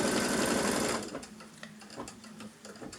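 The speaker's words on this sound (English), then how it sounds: "We'll just flip it over and stitch the tack down" Sewing machine stitches down a fabric strip, running loud and steady for about a second, then slowing into quieter, uneven mechanical ticks and clatter.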